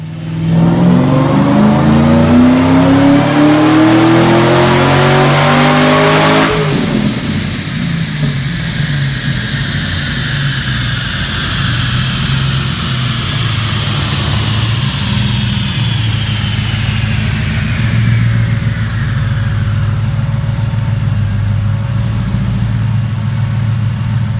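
A supercharged Mustang engine revs hard on a dyno and climbs in pitch, then drops off and winds down with a lingering whine, loud and close throughout.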